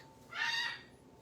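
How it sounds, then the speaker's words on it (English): A baby macaw gives a single loud, bright squawking call lasting about half a second, standing out over faint room background. "He is a baby macaw, in case some of you ask."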